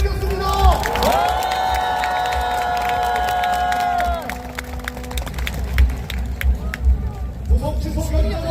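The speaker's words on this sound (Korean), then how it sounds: "뜨거운 격려의 박수 보내주시면 좋겠습니다." A large crowd at an opposition parties' rally cheers and shouts, with a loud drawn-out call ringing over the noise before scattered clapping and claps continue, voices murmuring throughout.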